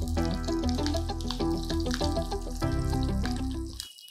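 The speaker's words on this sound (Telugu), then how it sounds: "పచ్చిమిరపకాయలు కొద్దిగా మధ్యలోకి విరిచాను, మీరు చీరేసినా సరే వీటిని కొంచెం వేగనిద్దాం." Green chillies, broken in the middle, fry in hot oil in a pan, giving a steady loud sizzle throughout that cuts off abruptly at the end.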